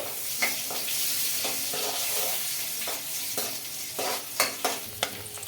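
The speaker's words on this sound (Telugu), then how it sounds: "ఆయిల్ అయితే హీట్ అయింది ముందుగా వెల్లుల్లి అయితే చిన్నగా తరిగిన వెల్లుల్లి అయితే వేసుకుంటుందండి అలాగే చిన్నగా తరిగిన పచ్చిమిర్చి ముక్కలు ఇవి రెండు కొద్దిగా ఫ్రై అవ్వాలి" Chopped garlic and green chillies fry in hot oil for a Maggi Manchurian, a steady close sizzle broken by a few sharp scrapes and clicks of stirring, with no voices.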